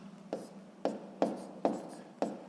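A pen writes out a sixth-grade maths solution on paper in five quick, evenly spaced strokes, close and quiet against a faint room hum.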